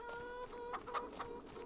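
Chickens cluck in short, soft bursts in a farming video game set on the shoreline of Lake Michigan, faint and fairly close, with no talking.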